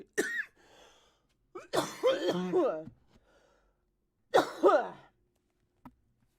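A person coughs close to the microphone in a few separate bursts with quiet pauses between, the middle fit the longest and roughest, followed by a short breathy sound.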